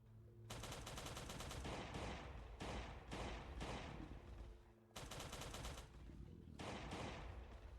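Rapid Uzi bursts from Last Day on Earth: Survival, a small submachine gun rattling off several dense, evenly spaced volleys that stop and start, loud and close, with a steady game hum underneath.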